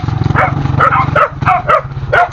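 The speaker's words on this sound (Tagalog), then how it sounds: "Ito yung kanilang aso" A dog barks in a quick series of about six sharp, close barks over a low steady hum.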